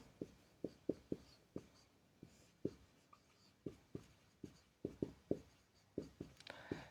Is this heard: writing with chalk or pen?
yes